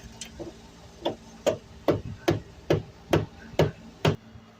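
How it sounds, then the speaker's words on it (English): About nine sharp, evenly spaced taps of a small rubber hammer striking a front control arm into place on a Dodge Charger, close and fairly quiet with nothing else around. "Let's see if I can hit it in the bottom with my little rubber hammer."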